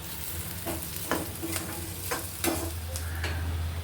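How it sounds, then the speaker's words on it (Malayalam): Onion, ginger, garlic and green chili being sautéed for a North Indian dal make a continuous sizzle, with a few spoon scrapes and taps against the pan at irregular intervals. "ഇനി ഇതിലേക്ക് അരിഞ്ഞു വെച്ചിരുന്ന പച്ചമുളക് ചേർത്ത് കൊടുക്കാം."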